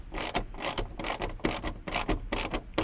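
A hand ratchet on the frame bolts of a Nissan Hardbody short shifter clicks in quick, repeated bursts of pawl ratcheting, close and clear, about six strokes with brief pauses between them.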